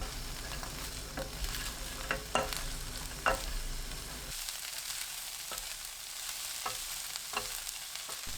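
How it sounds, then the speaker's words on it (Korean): Sliced cabbage stir-frying in a tablespoon of cooking oil in a pan over high heat, a steady close sizzle with occasional sharp clicks of stirring and tossing, no talking. "팬에 식용유 1큰술, 양배추 넣고 센 불로 2분 볶아줍니다."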